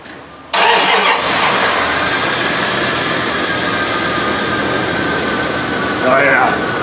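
A Dodge Ram with a 5.9 gas engine that has no power and bogs down cranks and catches abruptly, then settles into a loud, steady, rumbling idle close by, with a slight surge near the end.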